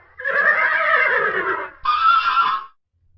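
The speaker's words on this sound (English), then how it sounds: "the horse says," A horse neighs loudly and close by, in two bursts: a long whinny followed after a brief gap by a shorter one, ending in silence.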